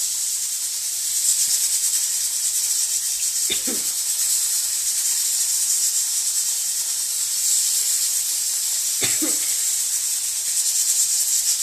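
Fish frying in hot oil for a local fish stew, a steady loud sizzling hiss throughout, broken twice by short clatters from handling in the pan.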